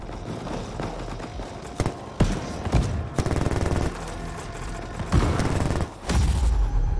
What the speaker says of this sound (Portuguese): Toma tiro de tudo quanto é lado, velho.